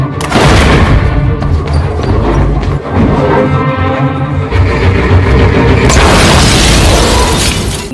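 A molotov bomb exploding in an action film scene, a loud, dense burst of blasts and crashing impacts filling the whole stretch without pause, backed by heavy low rumble and a bright crackling swell near the end.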